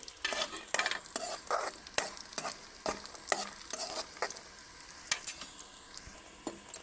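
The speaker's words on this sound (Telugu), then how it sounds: "స్టవ్ని లో ఫ్లేమ్లో పెట్టుకొని ఫ్రై చేసుకుందాం" Dry fruits frying in a pan over a low flame, heard as a soft, close sizzle punctuated by a quick series of rhythmic spatula scrapes and rattles, with no talking.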